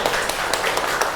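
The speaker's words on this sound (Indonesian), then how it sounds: "Beri tepuk tangan." A classroom group claps for classmates who have finished their worksheet on a simple traffic-light project, producing a short burst of brisk, fairly loud hand claps with no speech.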